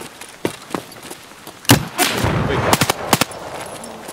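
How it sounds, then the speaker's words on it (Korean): Gunfire in Escape From Tarkov rings out as scattered single shots and short bursts of sharp, loud reports with echoing tails, some heavy thuds between them. "아 총소리 나네."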